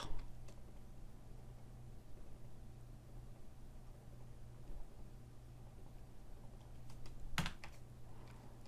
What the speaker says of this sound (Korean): 컨트롤 누르고 백스페이스.